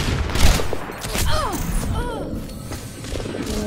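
Gunfire in a video game: a few sharp, loud shots close together, each followed by a brief ringing tail.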